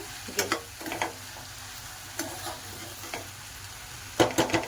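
Vegetables are stirred in a pan after salt goes in, with a few scattered scrapes and clatters of the spoon over a soft, low sizzle.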